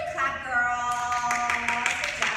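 Hands clapping in a ballet class, a few sharp claps in a short run toward the end over a sustained tonal background, moderately close.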